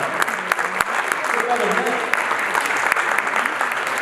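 An audience at an awards ceremony applauds and cheers steadily throughout, a dense, loud wash of clapping with scattered whoops and voices mixed in, sharp individual claps standing out near the front.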